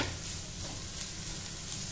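Onions stirred with mustard seeds and curry leaves in a hot pan give a continuous close sizzle with faint stirring scrapes, steady and without talk.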